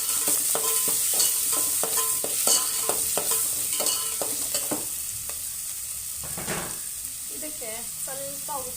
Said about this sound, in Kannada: ಈಗ ನೋಡಿ ಈರುಳ್ಳಿ ಹಸಿಮೆಣಸಿನಕಾಯಿ ಎತ್ತಿಟ್ಕೊಂಡಿದ್ನಲ್ಲ, ಇದನ್ನು ಇದಕ್ಕೆ ಸೇರಿಸ್ತೀನಿ.